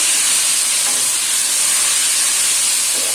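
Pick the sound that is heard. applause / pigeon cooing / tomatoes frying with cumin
tomatoes frying with cumin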